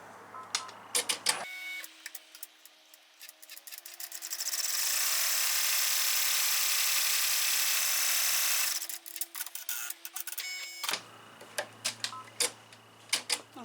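A home embroidery machine stitches the tack-down outline of an in-the-hoop embroidered note and photo holder's pocket piece, a steady rapid mechanical clatter and whir with a sustained smooth stretch in the middle, close and alone without speech.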